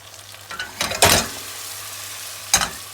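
Sucuk and tomatoes stirred in a pan, with a few short scraping and sizzling bursts from the spoon, close and fairly loud, separated by brief quiet gaps.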